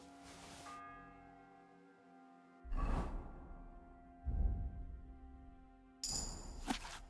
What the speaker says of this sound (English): The 7th bell.